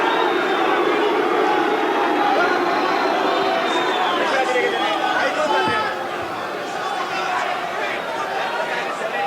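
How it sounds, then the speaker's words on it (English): Boxing arena crowd booing, a loud, continuous roar of massed voices and chatter that holds throughout, with a commentator talking over it. "Hamed trying to shut the boos of the crowd out of his mind."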